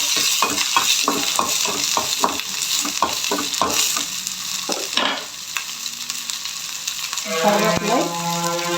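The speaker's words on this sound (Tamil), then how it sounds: "நல்லா போட்டு நல்லா வதக்கிக்கலாம்." Ingredients for a kuzhambu sizzle and fry in a pan while a spoon stirs and scrapes in quick repeated strokes, followed by a pause and a louder sizzle as more goes into the hot oil.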